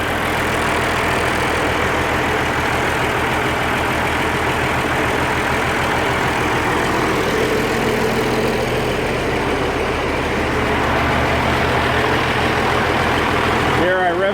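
An Oliver 1550 diesel tractor engine idles steadily up close, a loud, even low rumble with rhythmic knocking pulses running throughout.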